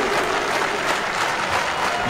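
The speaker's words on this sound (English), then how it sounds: "if you do not stop clapping, he will exit the building" Steady applause from a crowd at a CPW professional wrestling event, a dense continuous wash of clapping that fills the whole stretch without any talk over it.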